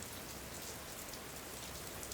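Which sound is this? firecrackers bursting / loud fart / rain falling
rain falling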